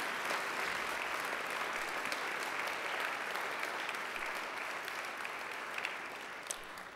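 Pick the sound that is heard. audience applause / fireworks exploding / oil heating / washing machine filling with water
audience applause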